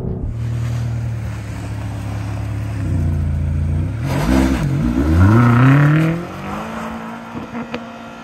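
A 650 hp BMW XM SUV engine hums at steady cruise, then climbs in pitch as it accelerates hard through a rising rev sweep before easing off, heard from inside the cabin with road and wind noise.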